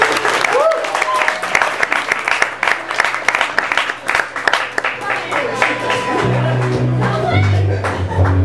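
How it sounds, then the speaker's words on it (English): An audience gives Chris a big round of applause at a live event, with dense, loud clapping that runs throughout, mixed with scattered cheers and voices from the crowd. "let's give Chris a big round of applause"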